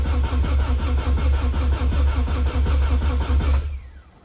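A motor fires up for its first start and runs with a loud, steady, rhythmic chugging before cutting off abruptly near the end.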